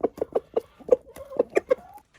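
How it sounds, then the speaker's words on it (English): A rooster gives a low, grunting food call to hens, a quick run of about eight to ten short clucking pulses close to the microphone. "roosters make a very specific noise, like a little, like a low tone kind of, it's not a cluck, it's more like a little grunt sound"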